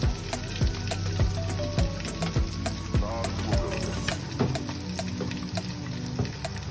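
Okra simmering in a covered pot over low fire, giving a steady bubbling sizzle with a run of regular sharp clicks and taps throughout.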